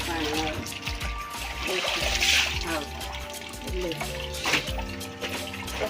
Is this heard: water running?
yes